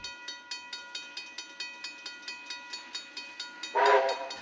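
Heritage steam locomotive WAB 794 of the Fielding Steam Rail Society chuffs in a steady, rapid exhaust rhythm while running toward Taihape, then sounds a loud, brief whistle near the end.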